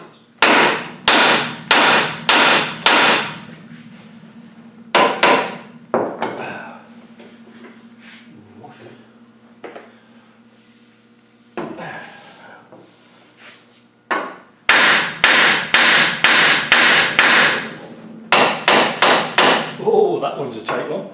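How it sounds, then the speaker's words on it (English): A hammer knocks the steering swivels off a 110 being repaired, sounding as close, loud metallic blows fired in fast volleys of several strikes each, separated by short pauses. "let me go and get a hammer. Get these swivels off."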